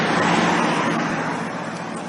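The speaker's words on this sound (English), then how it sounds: "As you can probably tell from the background noise and the cars in the background" A steady broadband roar of road traffic in Canada, heard from a bicycle, like cars rushing past nearby, fading slightly toward the end.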